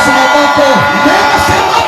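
A church congregation at a revival service cheers and shouts praise, a loud, dense roar of many voices held steady throughout.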